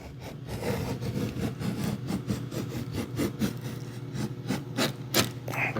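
A sharp blade drawn down through material in one even, steady pass with hard pressure while working on a Ttarp automatic press, giving continuous scraping and rasping with repeated faint clicks.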